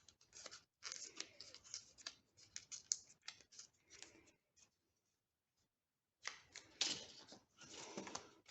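Scissors snip through a strip of paper in rapid, close crisp cuts, with a brief silent pause midway before another busy run of cutting; no voices.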